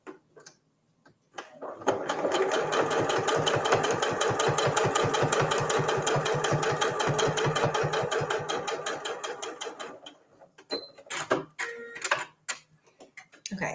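A sewing machine stitches a line of quilting on a microwavable mug cozy, running as a fast, steady, rhythmic chatter for about eight seconds before stopping, followed by a few light handling clicks.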